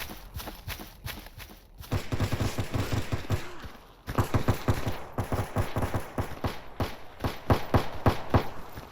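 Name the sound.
distant gunfire in the video game S.T.A.L.K.E.R. Anomaly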